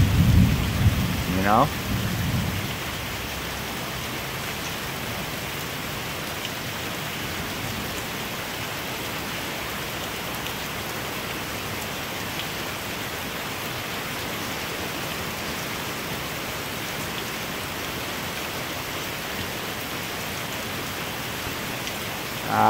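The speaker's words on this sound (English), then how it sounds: "crazy thunderstorms that just pop up out of nowhere" A thunderstorm: a deep, close rumble of thunder at the start, then a steady, dense hiss of heavy rain that continues evenly to the end, with a brief voice near the beginning.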